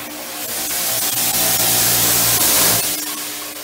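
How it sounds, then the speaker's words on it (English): A power washer sprays a shower, a loud, steady hiss of water against the surface, held for several seconds before it tapers off. "This power washer sucks"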